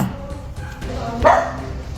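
Guard dogs bark at a thief, with a few muffled barks under a busy background and one louder, sharper bark near the end.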